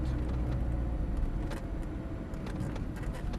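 A Lamborghini Gallardo supercar drives along a track with a steady engine drone and road noise heard from inside the cabin, moderately loud and continuous.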